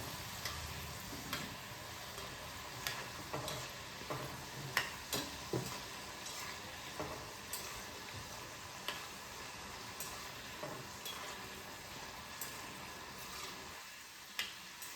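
Foxtail millet masala shankarpali dough pieces fry in hot oil with a soft, steady sizzle, broken by light periodic clicks and taps of a utensil against the pan.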